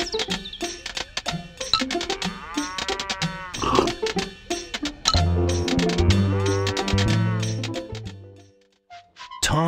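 Cows moo in the 1999 PC game Thomas & Friends The Great Festival Adventure, several drawn-out bellows rising over chirpy game sounds and a bright musical jingle, fairly close and loud before the clip drops away.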